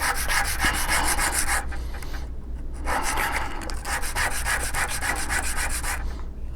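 A knife scrapes a groove notch into a wooden arrow shaft in steady, repeated rasping strokes, close and clear with short pauses between runs and no voices.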